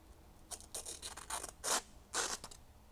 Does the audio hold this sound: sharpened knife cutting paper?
yes